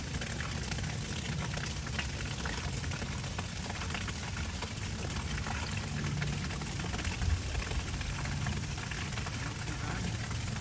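A water well being flushed out sends a steady, loud rush of water spitting from the casing, a continuous noisy spray lasting throughout with faint background voices.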